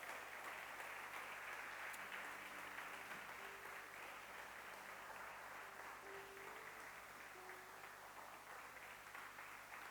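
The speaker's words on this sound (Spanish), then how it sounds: "¿Qué tal si le da un aplauso a Dios?" A church congregation applauding during a Spanish-language sermon, a sustained wash of clapping from a large room, even and continuous with faint tones beneath it.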